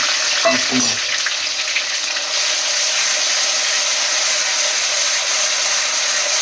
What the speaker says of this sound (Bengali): এটা এখন ভালো করে ভাজবো